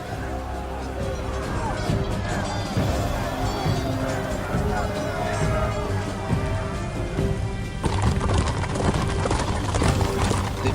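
Horses of Teutonic knights charging during a large medieval siege battle in Medieval II: Total War Kingdoms, a steady dense clatter of hooves amid battle noise and crowd babble throughout.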